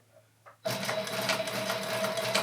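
A Sailrite sewing machine starts up and stitches steadily with a constant motor whine and a rapid, even needle patter, close and fairly loud, running without pause after a couple of faint preliminary clicks.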